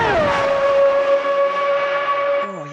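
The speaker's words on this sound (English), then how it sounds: "Screaming V12s and V10s." A screaming V12 race car engine in a racing sim game holds one high, steady, near-pure howl for over two seconds, loud and unbroken, then drops in pitch at the very end.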